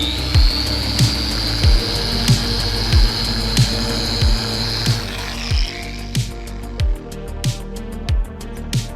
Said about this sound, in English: One more pass with the polisher.